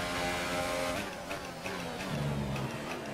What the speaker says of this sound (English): keep it straight, Steve. Get in the slipstream